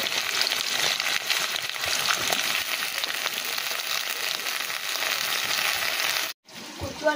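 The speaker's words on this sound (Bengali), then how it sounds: "কচু আর আলুটা ভাজা হয়েছে" Chunks of taro and potato fry in oil in a pan, a loud, continuous close-up sizzle that holds steady for several seconds before cutting off abruptly.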